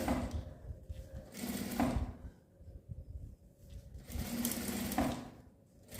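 Sewing machine stitching a zipper onto fabric, with bursts of steady motor whir and rapid needle clatter separated by short pauses, close and fairly loud.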